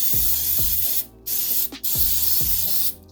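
A can of baking spray sprays in several short hissing bursts, close and loud, with brief pauses between them.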